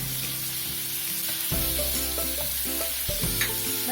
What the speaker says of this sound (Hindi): इनके अंदर अच्छे से मिक्स कर लेते हैं।